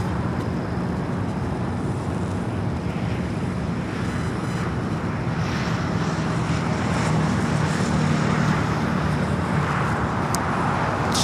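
An EVA Air airliner taxiing at LAX, making its final turns toward the Tom Bradley terminal, gives a steady, broadband jet rumble mixed with wind buffeting on the microphone, continuous and fairly loud throughout.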